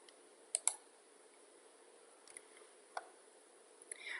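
A few soft, quiet clicks from a computer mouse pressing an on-screen OK button in note-taking software, spaced apart with a sharp double click near the start and fainter ones later, alone in a quiet room.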